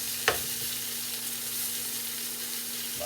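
Onions browning in a frying pan give a steady, soft sizzle throughout, with a brief stir or clatter near the start and another small stir at the end.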